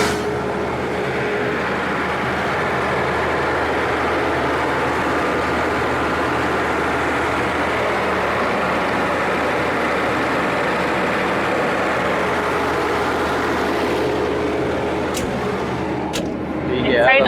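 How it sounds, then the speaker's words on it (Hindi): A used Japanese generator engine starts softly and settles into a steady idle, a continuous mechanical hum and rumble that holds evenly before a brief shift near the end. "स्टार्टिंग भी बहुत सॉफ्ट है बिल्कुल। इंजन आपको इंजन स्टार्ट हो जाता है।"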